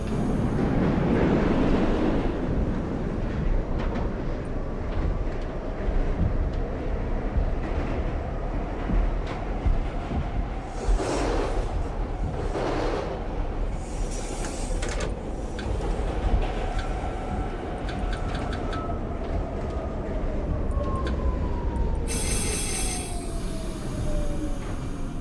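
A subway train on a Bronx-bound 5 line in the OpenBVE train simulator rolls in with loud, continuous rail rumble, high metallic wheel squeals rising and falling, and a sharp hiss near the end as it stops.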